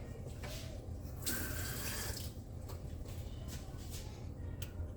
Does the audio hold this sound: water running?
yes